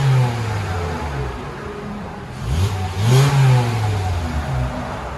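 A 2008 VW Rabbit with a 2.5L engine and muffler-delete exhaust revs up from a rumbling idle to a louder, raspy rise and settles back down, close by and steady, with no voices.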